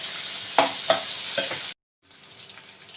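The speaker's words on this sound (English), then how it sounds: "saute for 4-5 minutes before we add tomato and other spices" Bombay duck chilli fry base sautés over a high gas flame, a close sizzle punctuated by a few sharp spatula scrapes and clinks, cutting out briefly before a quieter sizzle resumes.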